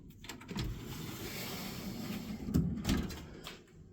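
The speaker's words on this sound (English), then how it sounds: "Yep, power drawer." The power drawer of a tool box slides open or shut. It makes a muffled rolling rumble, followed by a couple of soft knocks as it stops, close by and with no talking.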